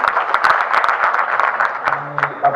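Brief burst of audience applause at a business news round-up, scattered clapping under a speaking voice for a couple of seconds.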